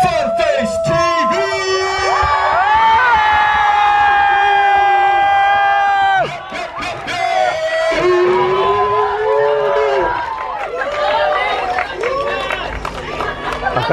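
A live audience roars with cheers, whoops and shouts as Fanface TV is welcomed on stage, a loud, sustained crowd noise that dips briefly midway and then swells again, with voices layered throughout.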